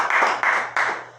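A church congregation claps in three quick bursts of applause, close and fairly soft, each burst fading quickly.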